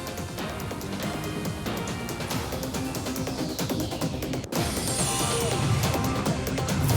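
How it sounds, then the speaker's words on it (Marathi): Illicit hand-made liquor stills being smashed at hooch dens in Hadapsar, Pune, give a loud, continuous barrage of crashing, clanging and breaking noise throughout, with a brief cut midway. "पुण्यामध्ये हातभट्ट्यांची तोडफोड।"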